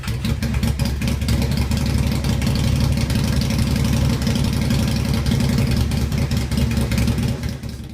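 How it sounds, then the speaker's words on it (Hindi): A 500cc four-stroke engine fitted into a modified Postman Pat toy van built for drag racing runs steadily and loudly throughout, with a rough, busy idle and slight revving. "स्पेशल टायर्स और एक 500 सीसी का 4 स्ट्रोक इंजन इससे जोड़ा"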